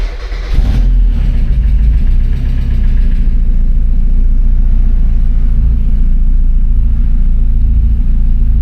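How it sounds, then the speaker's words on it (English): A Mazda MX-5, damaged in a crash, starts with a brief crank burst and then settles into a steady, close, rumbling idle that runs alone to the end. "Let's start the car first."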